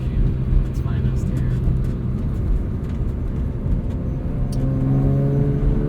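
A track-prepped 2005 BMW E46 M3 Competition with a 6-speed SMG gearbox drones steadily from inside the cabin, engine humming with rising pitch and road noise, loud and continuous throughout.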